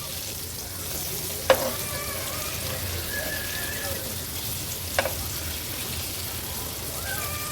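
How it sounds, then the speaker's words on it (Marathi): Pieces of mushi fish frying in a pan, a steady sizzle throughout with two sharp clinks of a utensil against the pan. "आता ही मुशी मच्छी मागच्या बाजूनी पण आणखीन 2 मिनिटांसाठी तळून घेणार आहोत।"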